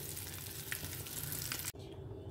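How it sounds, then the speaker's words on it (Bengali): Eggs fry in oil in a pan with a steady, fairly quiet sizzle and crackle, briefly interrupted near the end before the frying hiss resumes. "আমি ডিমগুলোকে একটু উল্টে পাল্টে ভেজে নেব"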